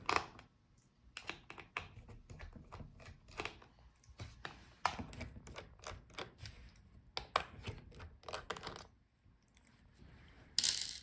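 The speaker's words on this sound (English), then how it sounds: "So unscrew the hinge screws." Close, irregular clicks and ticks come from a small screwdriver turning out the hinge screws on an MSI Pulse 15 B13 laptop, with quiet pauses and a sharper clack at the end.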